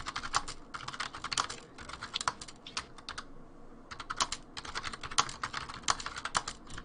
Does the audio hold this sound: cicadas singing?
no